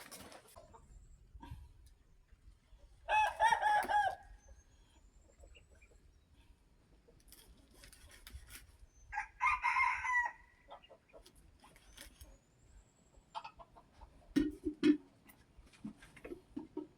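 Jungle fowl crow and cluck in the forest, three distinct bursts of crowing spaced a few seconds apart, fairly distant and moderate in volume, with softer clucks and quiet background noise between them.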